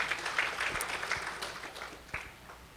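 Brief burst of audience clapping at a Saturday sabha katha gathering, strongest at the start and tapering off over a few seconds, with a couple of isolated louder claps near the end.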